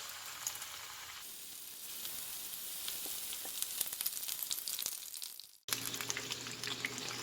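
Chicken lollipops deep-fry in hot oil on a stove over medium-low heat, giving a steady close sizzle and bubbling that briefly cuts out and then resumes a little louder.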